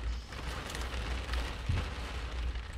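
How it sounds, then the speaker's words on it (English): Rain falls on a parked car, heard from inside the cabin as a steady, even patter with a low rumble, continuous throughout and with no talking. "Now it's raining again."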